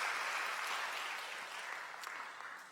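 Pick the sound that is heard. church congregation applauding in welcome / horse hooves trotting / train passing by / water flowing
church congregation applauding in welcome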